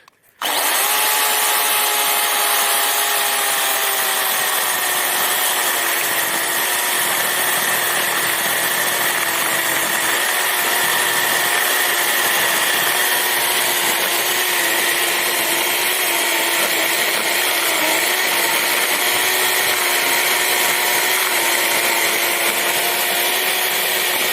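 A cordless Procraft PKA 38 saw running on an 18650 or 21700 battery cuts through 25 mm diameter stock, a loud, sustained whine and rasp lasting over twenty seconds with a slowly drifting motor pitch and no speech.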